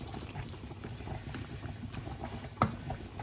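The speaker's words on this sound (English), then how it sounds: "my rice is boiling" Rice in a bag bubbles in a pan of boiling water on the hob, a soft continuous simmer with a single sharp clink near the end, quiet and close, no talk.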